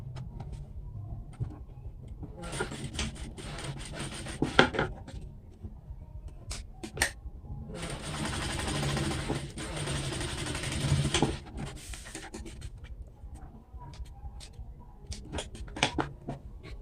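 A sewing machine runs a topstitch along a fabric lining for a cube-shaped organiser pouch, whirring in a sustained burst of several seconds amid shorter stitching runs, handling clicks and light movement close by.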